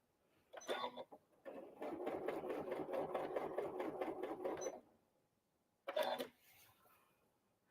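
A Janome sewing machine stitches a Christmas tree garland, running in a steady rapid rhythm for several seconds between two shorter bursts, close and clear.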